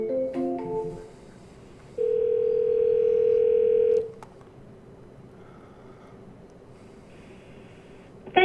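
A phone call to a business: a short burst of dialing tones, then a loud steady ringback tone lasting about two seconds, a quiet pause, and a click of the line at the end.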